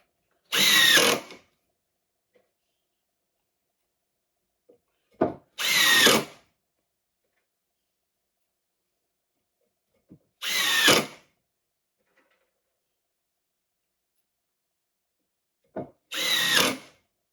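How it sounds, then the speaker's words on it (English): A Craftsman 20V cordless drill with a hex bit whirs in four short bursts spaced several seconds apart, each spinning up briefly as a screw is driven, with quiet pauses between. "now I'm going to drill in some screws with the hex drill"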